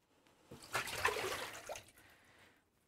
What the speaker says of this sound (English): I'm going to dump this water so we can play around in this container